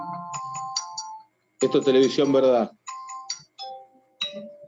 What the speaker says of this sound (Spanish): está sonando un teléfono por acá